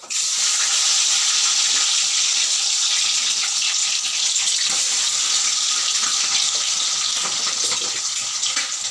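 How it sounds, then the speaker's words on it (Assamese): Paneer fries in hot mustard oil in a wok, a loud, dense, continuous sizzle that holds steady close up from start to finish. "পনীৰখিনি ভাজি ল'ম"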